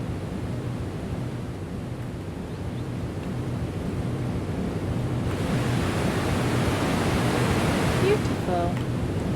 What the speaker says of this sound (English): Ooh, a waterfall.